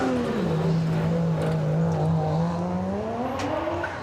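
A Subaru WRX race car at a hillclimb passes nearby, its engine note rising, dipping and climbing again through the gears in one continuous loud run, with no talking over it.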